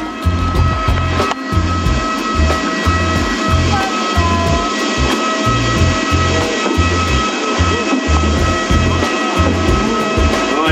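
Airbus A330 airliner jet engines drone loudly and steadily at an airport, a close, continuous roar with a rhythmic low pulsing underneath and no speech.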